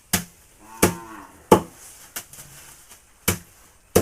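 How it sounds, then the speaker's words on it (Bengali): A small calf moos a few times, short nearby bleating calls spaced between sharp knocks and thumps, fairly faint overall with no talk. "এবার আর গরু নাই ছোট একটা বাছুর"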